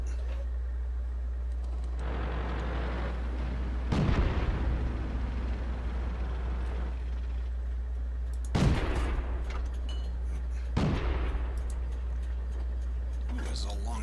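Tank cannon shots in World of Tanks, three loud booming blasts spaced several seconds apart over a constant engine drone, with a voice talking between them.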